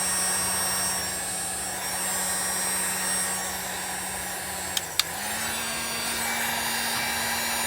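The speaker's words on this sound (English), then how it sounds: "if you have a heat gun, you can take the heat gun, heat it up a little bit" Heat gun warming PEX plumbing tubing during an RV plumbing leak repair, a steady, close blowing hum with a constant motor whine, broken briefly by two small clicks and a short dip in pitch.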